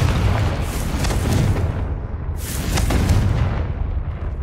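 Confringo fire spell explosions in Hogwarts Legacy video game: two heavy booming blasts, one at the start and another about two seconds later, each rumbling off into a crackling roar.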